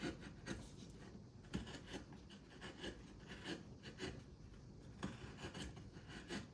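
A hand chisel with a slightly wider, rounded edge shaves cottonwood bark while carving a lighthouse, making faint, close, repeated scraping and rasping strokes in an uneven rhythm.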